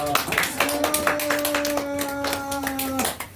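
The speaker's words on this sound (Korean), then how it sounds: "박수 한번" Audience clapping for a lecturer at a community economics lecture on investing and personal finance, a scattered run of hand claps with a steady tone held beneath, fairly close and moderately loud.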